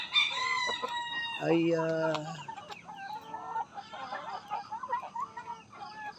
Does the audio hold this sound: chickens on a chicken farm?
yes